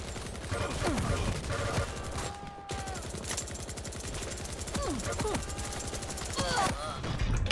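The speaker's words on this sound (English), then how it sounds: "Machine gun is dangerous." Rapid machine gun fire from the video game Quake Champions rattles in a steady stream of dense, fast shots, with other weapon sounds and brief effects layered over the continuous gunfire.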